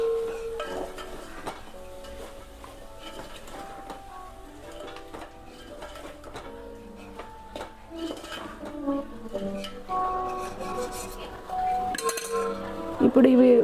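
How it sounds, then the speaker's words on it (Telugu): Tomato pieces are stirred into chicken curry in a pan, with close metallic clinks and scrapes of a spoon against cookware in an irregular rhythm that grow busier toward the end. "ఇప్పుడు మనం కట్ చేసి పెట్టుకున్న టమాటా ముక్కలు వేసుకొని ఒకసారి కలుపుకుందాం"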